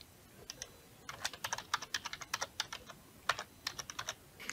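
Rapid typing on a computer keyboard while building a Microsoft Forms quiz, with quick bursts of crisp keystrokes and short pauses, close and clear against a quiet room with no talking.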